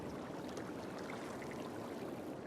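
Water rushes steadily into a walled basin in the city-building game Cities Skylines, a continuous soft, even wash with no break or change across the moment.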